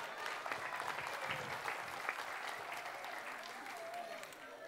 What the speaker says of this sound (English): Round of applause for Caden.